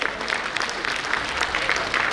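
Loud, dense applause from an audience at a Lions Club event, welcoming the chief guest, an International Vice President, and other guests to the stage. The clapping is steady and continuous throughout.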